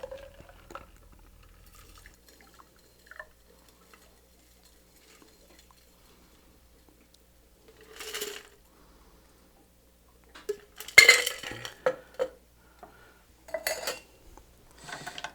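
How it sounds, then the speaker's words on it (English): A cocktail is double strained into a tall Collins glass: sparse metallic clinks of strainer and tin, then a short burst of pouring liquid and clatter in an otherwise quiet room, with no talking. "this is going to be in a Collins glass, so kind of a nice tall drink. And we're going to double strain this."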